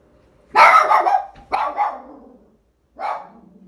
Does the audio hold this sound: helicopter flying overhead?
no